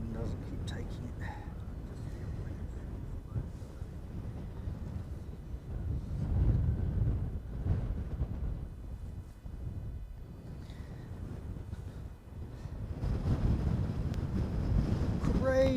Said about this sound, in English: Crazy winds, just crazy.